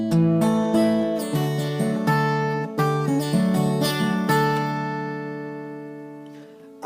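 Guitar picks the Molly Malone melody phrase 'crying cockles and mussels' as clean plucked notes and chords ringing out, ending on a long sustained chord that fades away.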